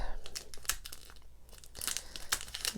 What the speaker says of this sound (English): You may want to turn your sound down if the sound of plastic bothers you.